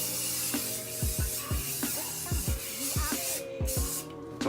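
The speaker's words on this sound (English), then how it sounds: "put some hairspray in here." Hairspray misted onto hair in a string of short, close hissing spray bursts at an irregular rhythm.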